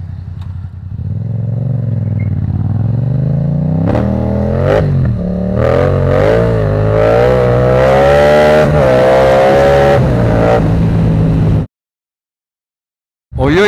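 A motorbike engine runs continuously while riding, its pitch climbing and falling through several revs and gear changes, loud and close, before cutting out abruptly near the end.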